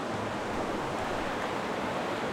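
Steady, broadband rush of a creek flowing under a bridge, constant and fairly close, with no breaks or voices.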